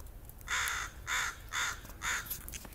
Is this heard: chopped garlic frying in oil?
no